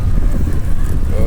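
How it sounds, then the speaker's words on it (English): Steady, heavy wind rumble buffeting the microphone, a constant low roar with gusty fluctuations throughout and no clear voice above it. "It's windy out"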